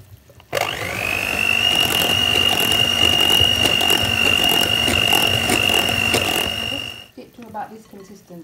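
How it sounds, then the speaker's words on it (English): An electric hand whisk beats double cream with icing sugar to soft peaks, a steady high whine with rattling from the bowl that starts abruptly, runs for about six seconds, then cuts off, followed by a few soft noises. "I'm going to whisk it to soft peaks"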